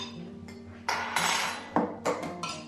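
Eggs beaten in a bowl for oaty pancakes, a fork or whisk clinking against the dish in a few quick bright bursts, close and alone.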